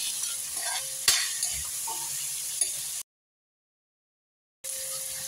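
Peas and chopped tomatoes hit a pan of browned onion and sizzle steadily while a utensil scrapes and clinks, with a sharp clatter early on; the frying cuts to silence briefly before resuming.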